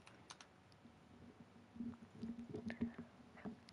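Someone types on a computer keyboard in a quiet room, with soft, irregular key taps that grow busier toward the end.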